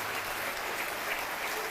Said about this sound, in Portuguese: Quero que você dê uma salva de palmas para esta palavra